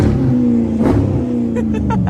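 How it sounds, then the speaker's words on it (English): A loud car engine idles with a deep, steady rumble, revving briefly partway through, close by with no talking. "this car really loud, though"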